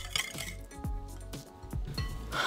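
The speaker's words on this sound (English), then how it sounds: "We're gonna pour that into a bowl and then mix in our brown sugar swerve and our cinnamon." Melted butter is poured into a bowl and stirred in with brown sugar substitute and cinnamon for keto cinnamon rolls, giving repeated clinks and scrapes of a utensil against the bowl at a steady rhythm, close and fairly loud.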